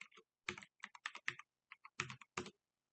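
Typing on a computer keyboard, a quick run of close, distinct keystrokes in irregular bursts with short pauses, alone with no talk.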